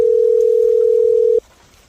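After a number is dialed, a landline telephone gives one steady, unbroken tone for about a second and a half, then stops abruptly, leaving near silence.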